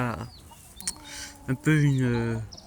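Hens cluck in a farmyard flock with a rooster and a female pheasant, giving a few short calls and then a longer drawn-out squawk near the end, with some background noise.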